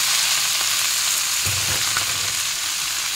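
Shredded cabbage and carrots being stirred and fried in a pan give a loud, steady close-up sizzle, with a brief thicker rustle of mixing partway through and no voices.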